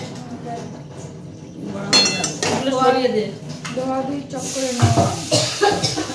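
A kadai is handled for washing as metal dishes clink and knock nearby in scattered bursts, with a person talking over the clatter.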